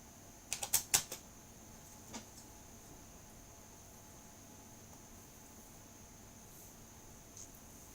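Faint typing on a computer keyboard: a quick cluster of light clicks near the start, then a couple of isolated taps against a quiet, hissy room background.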